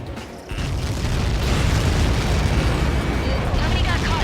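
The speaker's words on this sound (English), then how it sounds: "Nobody got caught in that explosion." A massive missile impact explosion in the flight combat game Ace Combat 7 erupts suddenly into a loud, sustained rumbling roar that fills the clip, with radio voices speaking over it.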